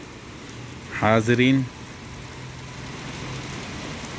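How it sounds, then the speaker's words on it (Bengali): Rain falls in Riyadh as a steady hiss, near and moderately loud. Someone speaks briefly over it near the start, and the rain carries on alone afterward. "কি বৃষ্টি হইতেছে রিয়াদে আজকে"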